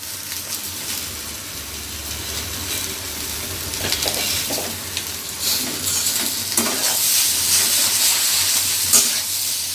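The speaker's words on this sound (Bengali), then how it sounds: "এবার সেদ্ধ করা জল ঝরানো নুডলসটা ডিমের মধ্যে দিয়ে দিলাম।" Boiled, drained noodles stir-fried with egg in hot oil: a continuous loud sizzle and steamy hiss with scattered scraping strokes of the spatula, growing a little louder toward the end.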